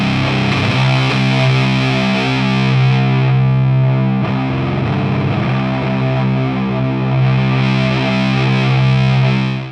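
Heavily distorted electric guitar chords through a Proco Rat distortion pedal ring out loud and sustained, a thick fuzzy tone holding steady with a brief change in the middle.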